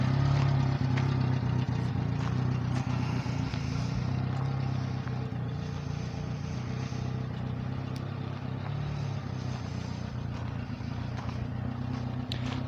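A 1991 Subaru Sambar engine, freshly serviced with new spark plugs, runs at a steady idle close by, a continuous low mechanical hum with no talking over it.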